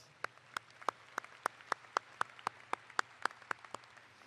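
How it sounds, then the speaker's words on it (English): Applause at a 2025 Memorial High School graduation ceremony, heard as a single pair of hands clapping close by in a steady, evenly spaced beat, crisp and fairly quiet over a low hum. "let's give them a round of applause"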